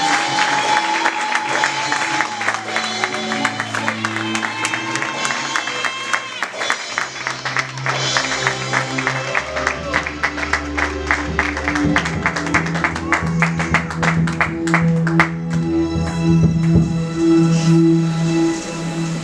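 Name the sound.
congregation applauding and acclaiming Jesus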